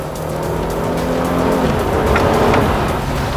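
Mercedes-Benz E400 coupe driven in sport mode, a loud, close engine drone with a steady tonal hum that shifts partway through, plus tire and road noise rising briefly.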